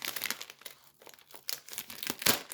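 Close, crinkly rustling of a small plastic bag in short bursts, handled and squeezed a few times.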